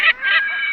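Seagulls calling over the sea on the way from Teknaf to Saint Martin's Island, two harsh, honking squawks close by, the second drawn out and steady.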